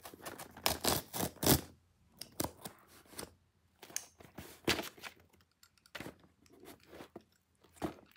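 A small cloud-shaped cutter slicing open a package, heard as bursts of crisp scraping and slitting strokes with short pauses between, close and fairly quiet.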